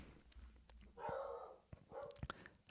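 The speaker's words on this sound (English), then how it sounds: "Apologies for my dog barking." A dog in a home gives two muffled barks from another room, faint and distant, amid low background hum and small clicks, with no talk over them.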